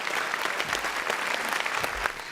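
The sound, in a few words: applause welcoming Mister X to the stage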